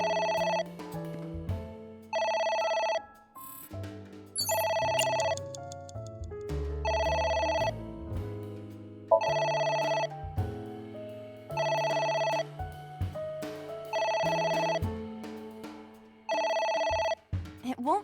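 Telephone ringing in the video game AI: The Somnium Files, a repeated electronic ring in regular bursts with short pauses, running throughout over game music and sound effects.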